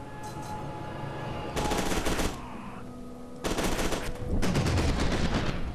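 Pistol gunfire in the video game FEAR 2 Project Origin comes in rapid bursts of sharp, loud shots in two main volleys, with game ambience and ringing tones between them.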